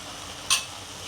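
Onion-coconut masala paste drops into a sizzling banana flower stir-fry with a single short, sharp splat against a faint, steady frying hiss.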